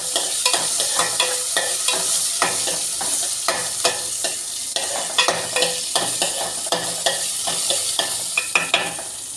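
Onions sizzle in a pan for fish curry while a spoon stirs them, giving a steady frying hiss punctuated by regular clacking scrapes, close and continuous.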